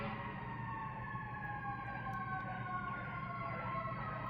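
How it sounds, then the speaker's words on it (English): Fire engine sirens wail steadily in the background, distant sustained tones slowly falling in pitch above a low hum, with no talking. "I'm hearing engines, fire engines in the background"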